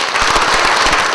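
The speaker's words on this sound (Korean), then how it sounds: "박수 한번" A large church congregation applauds together, a dense and loud burst of many hands clapping at once with no break. The clapping is close and sustained, and no voices stand out above it.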